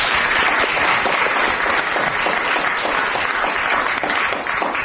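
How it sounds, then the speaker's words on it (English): Studio audience applause on a radio quiz show, a dense, steady wash of clapping that fills the whole stretch at full strength with no voices over it. "But she does get this round of applause."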